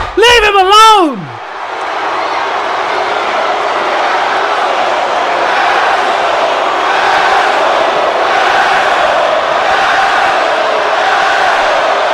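In a WWE 2K wrestling video game, a loud, sustained arena crowd roars with cheers and boos after a short shouted voice at the start.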